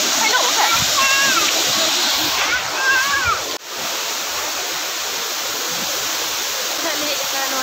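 Waterfall at Uski in Similipal pours in a loud, steady broadband rush that fills the whole clip, with brief chirping sounds and a momentary dip partway through.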